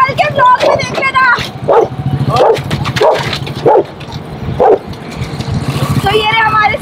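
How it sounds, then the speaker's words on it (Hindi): A pet dog barks in short repeated bursts at people gathered around it during a street outing in Delhi, fairly close and loud, mixed with overlapping chatter and background talk. "बब्जी उन्हीं पे भौंक रहे हैं"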